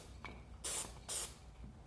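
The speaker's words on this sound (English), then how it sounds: "get my contact cement and spray the corner blocks" Contact cement sprayed from a spray gun onto wooden corner blocks for raised panel walls, two distinct close hissing bursts, each under half a second, between quieter room noise and no talking.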